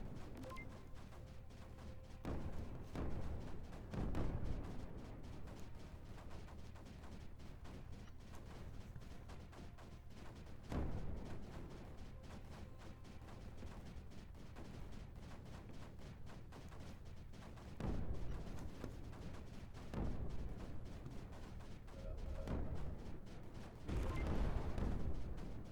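Spore launchers in Creeper World 4 fire volleys of about half a dozen at a time, each one a dull booming thump that repeats at intervals over a steady background hum, with no talking.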